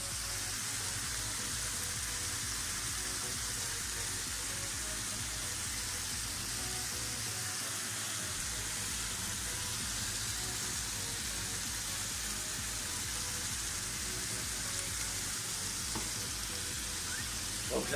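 Onions frying in a pan give a steady, close sizzle with occasional faint scrapes from stirring, continuous throughout with no clear talk.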